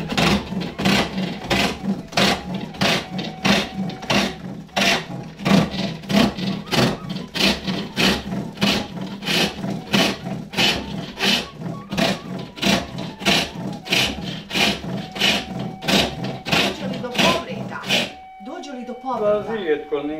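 A wood workpiece is shaved on a foot-powered lathe while pipes and flutes are made. Rhythmic scraping strokes repeat steadily, about two per second, close and loud, with a voice heard over them.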